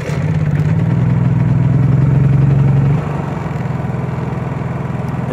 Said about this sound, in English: let's pull the choke out and start this guy up.